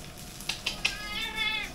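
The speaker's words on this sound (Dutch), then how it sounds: "Oh, en daar is de kat." A domestic cat meows indoors, one clear drawn-out meow after a few short clicks, close and fairly loud in a quiet room.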